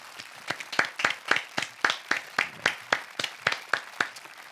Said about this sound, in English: they all deserve a huge round of applause from us